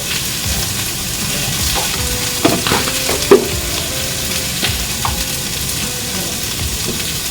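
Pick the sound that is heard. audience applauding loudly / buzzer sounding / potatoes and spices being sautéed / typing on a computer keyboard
potatoes and spices being sautéed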